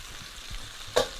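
Morel mushrooms cook in their own moisture in a cocotte pot, giving a soft, faint sizzle with a brief stirring scrape and clink as salt and pepper are mixed in.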